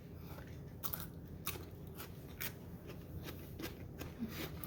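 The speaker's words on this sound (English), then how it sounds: "Can you hear the crunch?" Biting into crunchy sous vide dill pickles gives several sharp, faint crunches and chewing snaps, scattered irregularly over a quiet room background.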